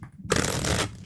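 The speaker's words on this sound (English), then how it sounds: "I'll shuffle them up one more time." Tarot cards are shuffled in a single quick burst, a dense papery riffle lasting about half a second after a brief quiet moment, close and fairly loud.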